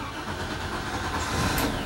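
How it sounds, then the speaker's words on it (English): A fuel-injected boat engine on a 2004 Rinker 270 cranks and fires with a turn of the key, a steady mid-pitched mechanical rumble that holds throughout at moderate distance. "It is a fuel injected engine, so you just turn the key and it starts."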